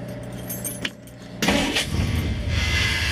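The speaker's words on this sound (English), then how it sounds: "I'm gonna go in here and I'm gonna fire it up just for grins." A 1963 Studebaker Champ pickup engine with dual exhaust cranks and catches at about halfway, then runs with a loud rumble; a brief jangle of keys comes just before it starts.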